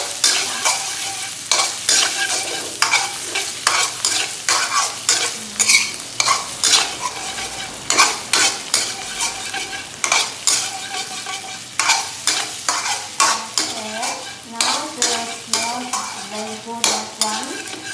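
Shallot, tofu and sweet Chinese radish stir-fried in a pan for pad thai kung, loud and close, with a busy sizzle and rapid rhythmic scraping strokes of a spatula throughout, no voices.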